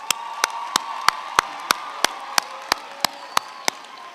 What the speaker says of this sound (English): Another hand of applause for those graduates